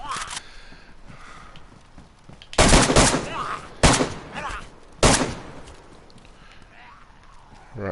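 Three loud gunshots ring out in DayZ on PS4, spaced about a second apart over a quiet ambient bed, each with a sharp crack and short echoing tail; a faint voice murmurs between them.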